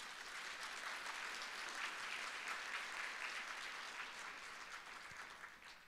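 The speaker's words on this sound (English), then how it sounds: "Let's clap on that." Steady, fairly distant applause from a keynote audience, a continuous wash of many hands clapping that holds evenly and fades slightly at the close.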